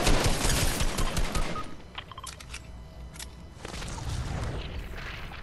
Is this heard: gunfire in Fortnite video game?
yes